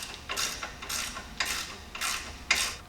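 A ratchet wrench turns a 13mm bolt, coated in anti-seize, into a coil spring retainer bracket on a Jeep Cherokee XJ during a suspension lift install, giving five evenly spaced clicking strokes up close.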